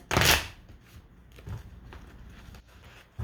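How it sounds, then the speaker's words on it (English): Tarot cards being shuffled by hand, a loud burst of riffling at the start followed by quieter scattered shuffling and card taps, close up with no talking. "I'm having a hell of a time shuffling my cards this month."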